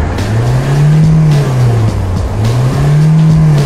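A 2007 Kia Pride diesel car engine revs up and down in two or three steady swells, loud and close, in a workshop.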